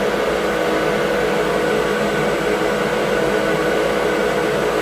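An Automate FL300-II milling machine running at 1,000 RPM while cutting metal, giving a loud, continuous motor whine with broadband grinding noise, steady throughout and with no voices.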